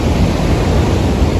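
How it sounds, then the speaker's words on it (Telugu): A waterfall near a dam in Chitkul, a steady, full broadband rush of falling water that stays loud and constant throughout, with no voices. "water falls"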